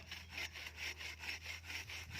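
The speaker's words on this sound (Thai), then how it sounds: "ก็มาเลื่อยอย่างนี้เลย" Hand saw cutting through a jujube tree branch, steady rhythmic back-and-forth strokes at an even pace, close and fairly quiet, with no talking.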